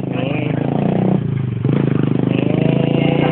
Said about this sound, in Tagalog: Itong drag race to, yung motor ni Hyper